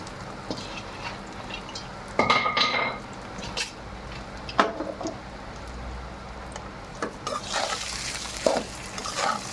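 Cooked rice is stirred into a pan with fried mustard seeds and chana dal, producing intermittent scraping and clanking of a spoon against metal over a soft background hiss, with a few louder knocks.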